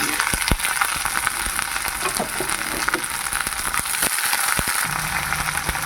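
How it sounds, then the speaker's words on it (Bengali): Carrot, capsicum and egg fry in oil in a pan, a loud steady sizzle with scattered sharp spits and pops, close up and without speech. "প্রথমে আমি তেলের ওপরে দিয়ে দিচ্ছি গাজর দিয়ে দিচ্ছি ক্যাপসিকাম দিয়ে দিচ্ছি ডিম"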